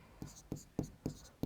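Pen strokes scratch across paper during a Class 10 maths lesson on probability, five short writing bursts in a steady rhythm, close and fairly quiet.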